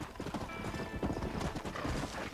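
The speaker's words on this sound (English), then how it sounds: "Everybody, meet my horse, Chevy." Horse hooves clip-clopping in the video game Red Dead Redemption, a rapid steady rhythm of close hoofbeats with a brief whinny.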